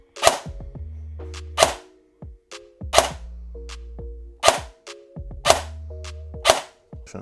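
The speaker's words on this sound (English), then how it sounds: "So when I'm firing, you're just gonna see the watt meter." An airsoft MP5 with a high-torque prototype motor fires several sharp, evenly spaced shots, each followed by a short mechanical whir, loud and close with pauses between trigger pulls.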